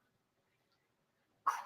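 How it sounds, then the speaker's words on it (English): A dog barks once, a short, sharp bark that breaks a near-silent room at the very end, close and fairly loud. "I apologize for the dog that wants to play every time I am live."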